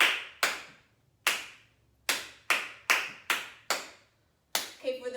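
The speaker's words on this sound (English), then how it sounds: "When you get the pattern, clap it with me." Crisp hand claps beat a rhythm pattern, roughly nine close claps in uneven groups with short pauses, and a voice begins speaking right at the end.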